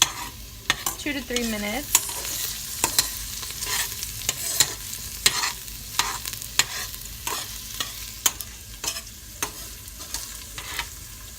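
Shredded beef ropa vieja sizzles softly in a frying pan while a utensil scrapes and taps against it in irregular stirring strokes, with a brief spoken phrase partway through.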